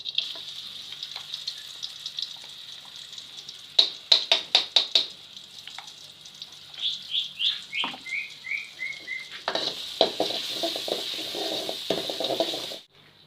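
Spice paste dropping into a little hot oil and frying, a steady bright sizzle with bursts of crackling and spattering that swell and fade, close and loud with no talking.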